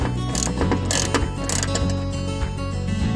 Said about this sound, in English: To start ratcheting it out to get it out of there.